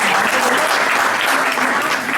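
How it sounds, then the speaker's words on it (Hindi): Dense, sustained audience clapping at a Hindi poetry evening, encouraging a poet reading for the first time, even and fairly loud from start to finish. "आप सब कम से कम अच्छी तरह से तालियां बजा दीजिए।"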